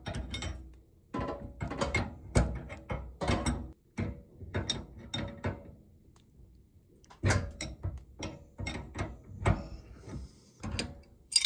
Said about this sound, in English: just gonna break this nut loose first thing